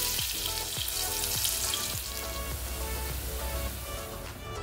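Diced potatoes fry in hot oil with a loud, dense crackle and hiss, plus a few brief bubbling bursts as the pieces settle; close up and steady throughout, with no voices.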